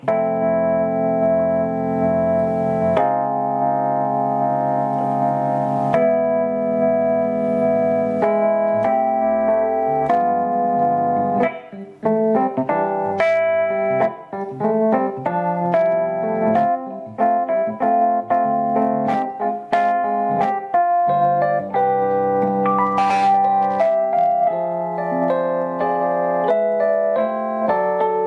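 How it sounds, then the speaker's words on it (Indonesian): Electric piano tone on a Roland FP-30X digital piano rings out clearly, first sustained chords, then a livelier run of melodic phrases with a soft, bell-like tone. "E piano ya teman-teman, E piano."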